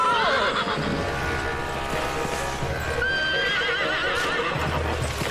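A horse neighs loudly near the start amid hoofbeats and a busy, dense background of music and commotion.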